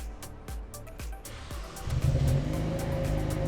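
A flooded Hyundai Veloster from an auction cranks in several rhythmic bursts, then catches and settles into a loud, steady idle; no talk over it.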